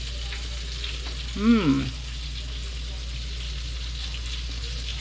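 Octopus frying in a pan gives a steady, close sizzle that runs under the whole stretch, with a short voice breaking in near the start.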